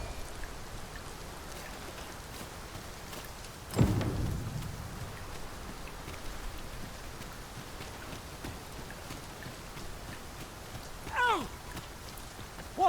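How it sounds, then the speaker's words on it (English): Steady rain pours down in a downpour in the video game Dragon's Dogma 2, a dense hiss of falling drops with a louder thud and a brief squeaky sound breaking through the constant patter. "We must be really down on our luck to get caught out in such a downpour."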